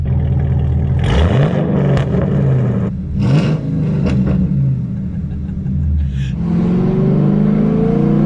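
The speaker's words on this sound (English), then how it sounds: "Waiting at red lights is a lot of fun because it gives you that really nice and aggressive idle" Loud, steady burbling exhaust from a straight-piped car, a fifth-generation model, running close by with a deep rumble and a few short swells of revving in the middle.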